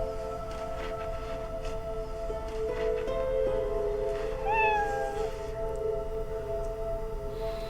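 A house cat lets out a couple of short meows, one rising then falling, over a steady humming room tone in a supposedly haunted home, with no talking.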